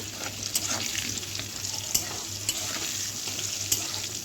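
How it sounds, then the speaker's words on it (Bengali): Potatoes seasoned with salt and turmeric fry in a pan, a dense, steady close sizzle with a few crisp spatula knocks spaced through it. "এবারে আলুটাকে ভাজবো। আলুটাকে ভেজে নেব।"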